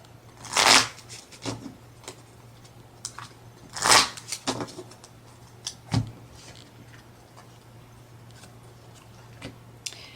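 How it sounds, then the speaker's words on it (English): Pokemon trading cards from an Emerging Powers theme deck get shuffled close up in a few quick riffling bursts, separated by quieter pauses and small handling ticks, with no talking. "after you search your deck for anything, always make sure to shuffle it up"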